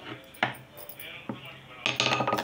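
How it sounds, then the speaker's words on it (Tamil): A knife cutting through rolled parotta dough on a board, with a few sharp taps at irregular intervals followed by a quicker cluster of clicks, close and clear against a quiet background. "கத்தி வச்சு கட் பண்ணிக்கோங்க."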